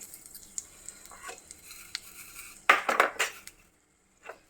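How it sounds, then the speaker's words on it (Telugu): Garlic dropped into hot tempering oil for a ridge gourd and coconut fry crackles in a loud, close burst of sizzling and stirring that lasts under a second, then dies back to a faint hiss with a few light clinks of utensils. "కావాల్సిన పోపులు వేసుకుందామండి వెల్లుల్లిపాయ వేస్తున్నాను"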